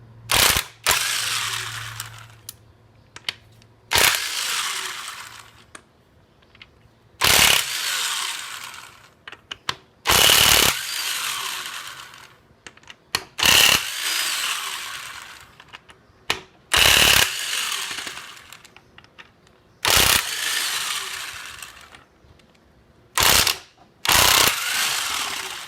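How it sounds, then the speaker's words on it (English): Ratchet backing out engine case bolts, bursts of rapid close clicking repeated in short spells separated by pauses, loud and crisp with nothing else around them. "we're going to be removing our case bolts"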